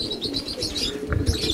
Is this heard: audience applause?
no